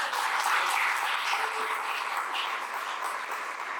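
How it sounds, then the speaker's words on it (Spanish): A church congregation applauds in a steady, broad patter of many hands, moderately loud and even, with no voices standing out. "Y que le den un aplauso a la iglesia."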